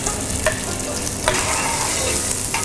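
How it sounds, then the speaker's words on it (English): Chopped onion frying gently in butter with cumin seeds, a loud, close, continuous sizzle broken by a few sharp spoon taps and scrapes against the pan. "And we'll gently fry this onion"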